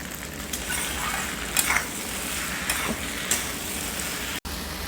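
Mixed vegetables sautéing in a pan, a continuous soft sizzle broken by a few scraping stirs of a spatula, close and moderate, no talk.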